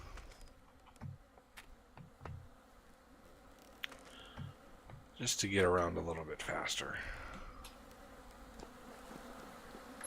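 Insect buzzing from mosquitoes in the survival game Vintage Story, a persistent whine behind a man's speech that swells loudly for a few seconds midway.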